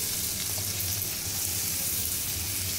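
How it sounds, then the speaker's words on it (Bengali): Chopped onions fry in melted butter in a wok, giving a steady, even sizzle with a faint low hum beneath, continuous and fairly close with no voices. "এখন আমার বাটারটা গলে গেছে, এখন এর মধ্যে আমি পেঁয়াজ কুচুগুলো দিয়ে দেবো।"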